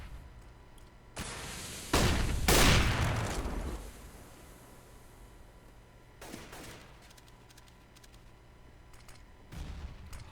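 Desert Eagle pistol fire in a competitive shooter match, a few sharp, loud shots with ringing tails separated by quieter gaps, plus fainter distant pops later on.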